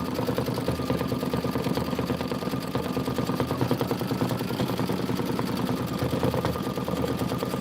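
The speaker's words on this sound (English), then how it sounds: "this is 8 minutes of stitching" An embroidery sewing machine runs steadily on a Kimberbell Home Sewn project, a continuous rapid mechanical chatter of stitching holding an even level throughout with no pauses.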